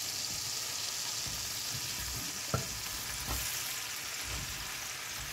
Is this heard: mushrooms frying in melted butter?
yes